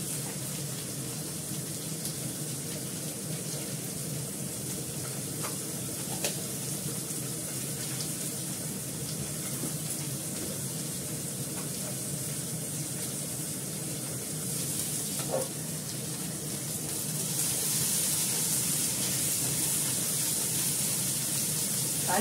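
Curry leaves and mustard seeds frying in hot oil in a pan give a steady, close hiss of sizzling with occasional faint crackles and pops, growing a bit louder toward the end.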